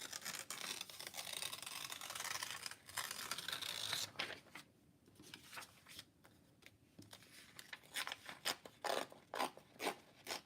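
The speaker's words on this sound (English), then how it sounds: "Okay, so then I'll tear it here." Paper scrap torn by hand for a scrapbook layout, close and quiet, with a long rasping tear followed by a pause and then a series of short ripping and rustling bursts.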